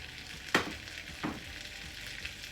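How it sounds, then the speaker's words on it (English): Shrimp frying in heated butter for Jamaican pepper shrimp, a steady close sizzle with two sharper bursts as pieces hit the pan, no voices. "I am just going to add my shrimp, and then I'm going to add my seasoning"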